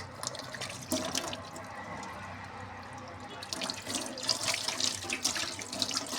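Tap water runs steadily into a sink being washed, a soft continuous splash with louder gurgling and spattering toward the end as something moves under the stream, close by with no talk.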